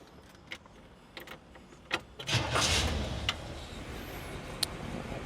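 A 1968 Chevy Impala SS427 convertible with a big-block V8 starting up: a few clicks and small clunks, then a brief cranking burst and the engine catching into a steady idle rumble, fairly quiet and close.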